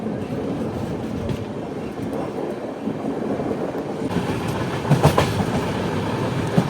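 Karnataka Sampark Kranti Express 12650, running from Hazrat Nizamuddin to Yesvantpur, rolls past Sitaphalmandi toward Kacheguda. Heard from on board as a steady, close rumble with rhythmic clickety-clack of wheels over rail joints, growing slightly louder near the end.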